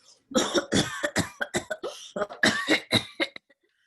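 An old man with tuberculosis coughs repeatedly in a rapid, rough series of harsh bursts, close and loud, tapering off into silence.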